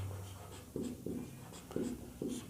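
Pen writing a maths solution by hand on paper, close and quiet, in a series of short scratching strokes with small taps between them and no voices.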